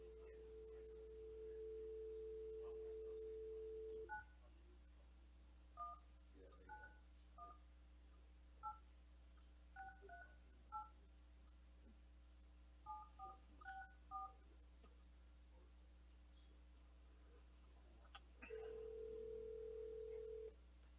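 Touch-tone telephone dialing during a regular city commission meeting: a steady dial tone, then a string of short DTMF beeps in uneven groups, then a tone again, faint over a constant low electrical hum.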